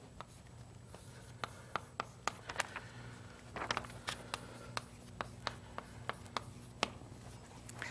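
Chalk or marker writing on a board during a mathematics lecture, a run of short, faint taps and scratches at an irregular pace in a quiet room with a low steady hum.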